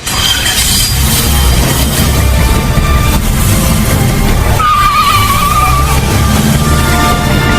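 Loud, roaring engine noise with harsh skidding and squealing tires as a car speeds away, a sharp screech rising briefly midway, in a radio drama.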